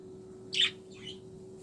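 A small bird gives a short chirp followed by a softer second call about half a second later, faint against a steady low background hum.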